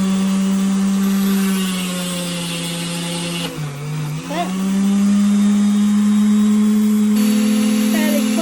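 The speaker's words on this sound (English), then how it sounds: "See how quick that is with the number 2mm drill bit" Power drill fitted with a 2mm bit boring through sea glass, a steady loud motor whine holding throughout with a brief dip in pitch midway as the bit bites, then resuming at full speed.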